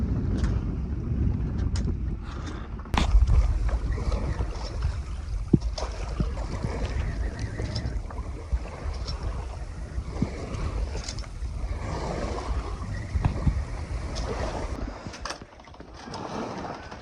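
A sailboat under way solo at sea off the English east coast near wind farms, with steady broadband wind and water rush throughout, gusty buffeting on the microphone and occasional knocks, fairly loud and continuous.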